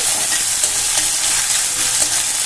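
Sliced onion fries in a pan over a medium gas flame while being stirred, making a loud, continuous close-up sizzle with soft scraping mixed in.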